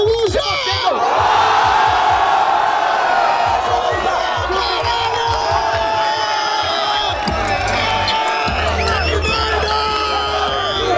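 A rap battle crowd roars, cheers and whoops loudly and close, a dense swell of shouting voices that holds throughout and surges near the end.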